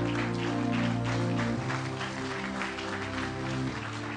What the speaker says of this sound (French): Est-ce qu'on peut se tenir debout en acclamant le Seigneur?